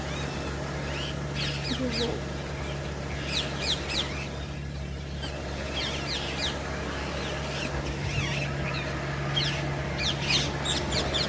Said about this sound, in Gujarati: પોપટ છે પોપટ